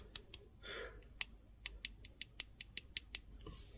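A metal part of an SH Figuarts Jujutsu Kaisen figure of Geto or Gojo in school uniform is tapped about a dozen times, making quiet, sharp, close-up clicks in an uneven rhythm that speeds up toward the end.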